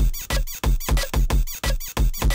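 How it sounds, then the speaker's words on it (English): A bed squeak sample in a dariacore track repeats as a loud, rhythmic series of sharp squeaks, about eight evenly spaced bursts, alone and up close. "Got the bed squeak."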